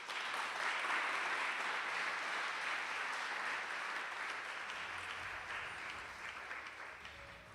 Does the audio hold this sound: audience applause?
yes